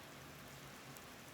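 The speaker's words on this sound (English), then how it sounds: "it's really coming down hard. I think you could probably hear that. I got my window open." Heavy rain pouring down outside, heard through an open window as a faint, even wash of hiss and patter that carries on without a break.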